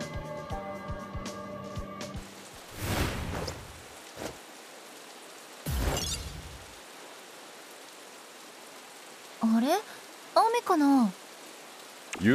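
Rain falls in the action video game Dusk Diver, a soft hissing wash that runs under game music and sound effects, with voices heard briefly in a few spots.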